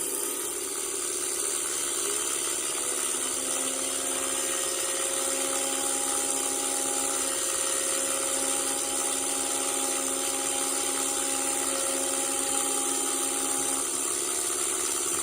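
The engine of a CAC 25 warbird trainer aircraft in the Flight Simulator FSX video game gives a steady, loud, droning whine and hum that holds unchanged throughout, with no voices.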